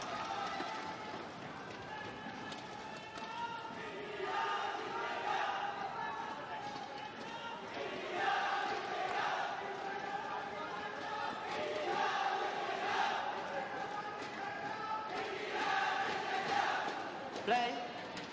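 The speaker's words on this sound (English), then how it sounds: "Quite a large Indian contingent in the crowd down to my left, making some noise in support of Saina Nehwal." A sizeable crowd cheers and chants in support of a player during a women's singles badminton final at the 2017 Malaysia Masters, a sustained, fairly loud wash of many voices rising in waves with a commentator speaking over it.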